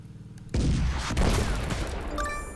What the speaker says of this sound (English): Wow, that artillery barrage.